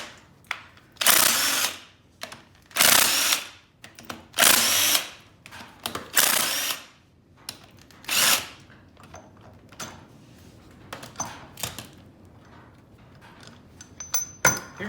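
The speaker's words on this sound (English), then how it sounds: "start by taking these 4 bolts out" A power tool whirs in repeated short bursts with pauses between them, close and loud, as four bolts come out of the harmonic balancer pulley on a GM 6.5L diesel, with small clicks and handling noises in the gaps.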